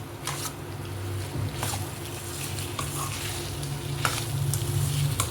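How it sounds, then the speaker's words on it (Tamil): Homemade pasta tossed with masala in a frying pan: a quiet, steady sizzle overlaid with intermittent scraping stirring strokes, heard close up without talk. "மசாலாவோட நம்ம ரெடி பண்ணி வச்சுருக்க பாஸ்தா வந்து நல்லா மிக்ஸ் ஆகணும்."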